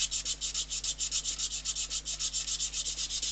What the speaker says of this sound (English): all you're doing is sanding the wood as well